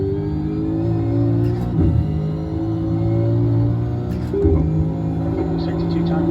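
A V8 Supercar engine in iRacing at Bathurst drones loudly and steadily at high revs, with brief shifts and dips in pitch as the car works through corners, while someone talks over it.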